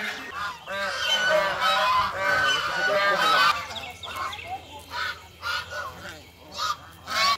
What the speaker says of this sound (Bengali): ওই যে সামনে হাঁসগুলো উঠে এসছে পুকুর থেকে